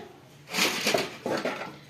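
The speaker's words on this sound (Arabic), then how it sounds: "غندير معلقه خشبيه مره كنحرك حتى يذوب" A wooden spoon stirs honey syrup in a pot on the stove, giving soft scraping and clinking knocks against the pot in two short bursts.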